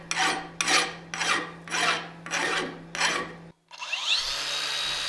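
Hand files rasping across a hand-forged steel cross peen hammer head, six steady rhythmic strokes, close and loud, followed by a brief pause and then a different, smoother grinding scrape.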